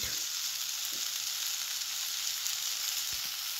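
Amla murabba mixture with turmeric, red chili powder and salt is stir-fried in a pan, giving a constant, close frying hiss with a couple of soft stirring knocks.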